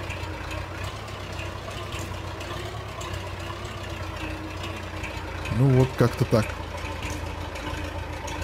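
A tractor engine idles in Farming Simulator 22, a steady low mechanical hum that runs unbroken through the whole stretch, with a short burst of speech over it partway through.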